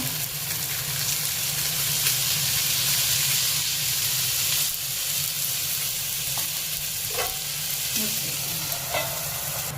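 Fish frying in oil on a tava gives a steady, close sizzle and hiss throughout, with a few faint scrapes and clinks.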